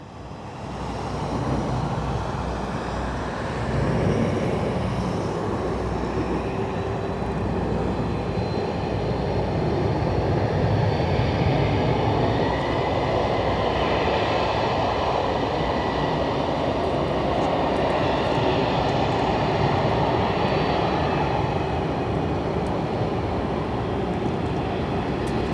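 An aircraft arriving from Minneapolis at Chicago O'Hare Airport, a loud continuous engine roar that swells and holds for a long stretch, heard from outside at a fair distance.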